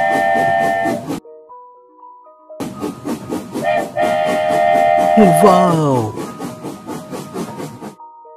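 A cartoon alphabet train chugs along with rhythmic steam puffs and hissing, a brief whistle-like tone and sliding pitch sweeps near the end, loud and close, with music around it and a voice exclaiming at the start.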